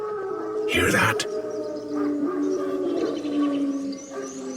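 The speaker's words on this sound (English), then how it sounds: "No, wild dogs." Wild dogs howl in The Witcher 3, drawn-out wavering cries rising and falling at a middle distance, layered over a faint outdoor backdrop with a brief voice near the start.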